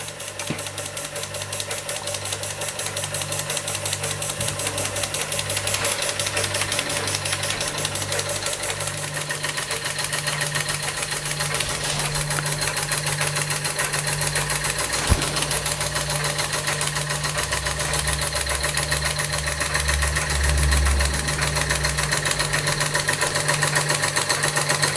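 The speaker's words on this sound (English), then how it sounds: "What a lovely engine." A small Czechoslovakian Ites model steam engine, running on gas pressure, runs steadily for a long stretch, a rapid even mechanical chugging with a faint hum, close and unbroken.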